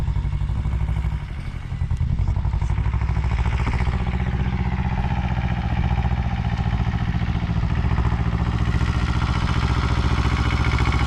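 An Iseki tractor engine runs steadily nearby, a loud, even clattering drone with a rapid rhythmic chug that holds for the whole stretch, with no voices over it.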